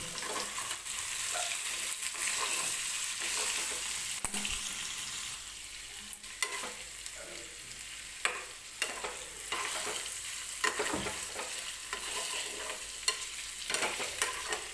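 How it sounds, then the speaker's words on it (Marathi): Paneer cubes frying in oil on a high gas flame, a steady hissing sizzle with intermittent knocks and scrapes from a spoon turning the pieces, fairly quiet and close, no talking. "अगदी फास्ट गॅसवरती 2 ते 3 मिनिटच फक्त मी फ्राय करणार आहे"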